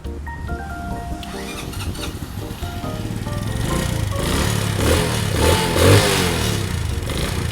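A 2016 GPX Demon 125 motorcycle engine runs nearby with a busy, rattling idle that grows louder and rougher in the second half, with some clicking and mechanical noise.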